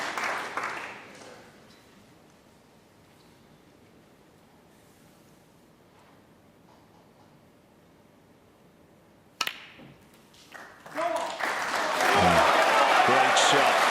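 Snooker crowd at the 2015 UK Championship applauding Neil Robertson's shot, a sudden swell of clapping rising near the end after a quiet stretch with commentary over it.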